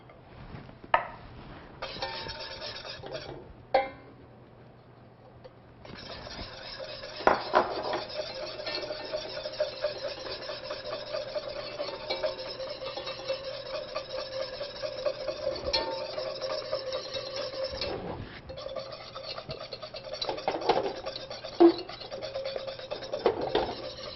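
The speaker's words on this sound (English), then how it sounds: "Mix this in really well." Stirring a thickening cornstarch and sugar mixture in a pan over lowered heat for a fruit tart filling, a steady scraping and clinking of the utensil against the pan with a few sharper knocks, no talking.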